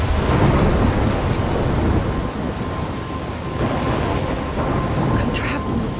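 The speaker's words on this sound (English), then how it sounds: "I'm trapped in a storm" Thunderstorm in the video game Life Is Strange: heavy, steady rain hiss with deep rumbling thunder rolling underneath, a dense continuous wash of storm noise throughout.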